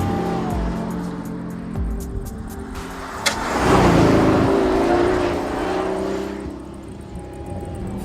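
A 2014 Pagani Huayra hypercar drives past on a rough road with a rising engine rumble and road noise, swelling loudest midway then fading, no voices.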